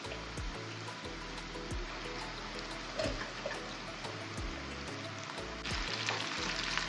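Chicken pieces dropped into hot ginger-garlic paste and onions frying in a pan, giving a steady, moderately quiet sizzle with faint repeated clicks and a louder burst of frying near the end.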